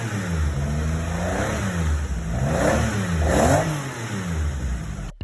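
Group B Metro 6R4 rally car fitted with a swapped engine, revving repeatedly up close with rising and falling pitch sweeps over a rough idle, loud and alone.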